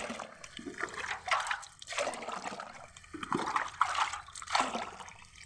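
Liquid fertilizer is poured onto garden plants to keep insects away, a close series of splashing pours in regular pulses.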